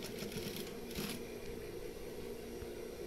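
A sewing machine stitching along the neckline seam of a koko shirt, a fast steady mechanical whir with a faint rhythmic clatter, continuous and close, heard alone at low volume.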